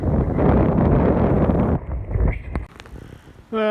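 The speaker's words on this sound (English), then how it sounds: "This wind is strong and cold." Strong, cold wind gusts through trees on a farm, a loud continuous roar of buffeting air that eases midway, leaving softer rustling with a few brief knocks before it surges again.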